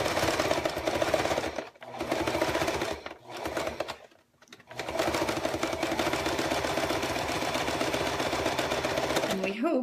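A sewing machine stitches a straight line on a paper-pieced snowman quilt block, its needle hammering in a fast, steady rhythm that pauses briefly twice before running on, close and clear.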